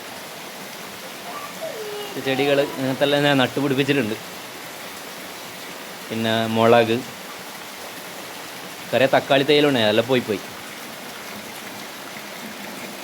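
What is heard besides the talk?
heavy rain falling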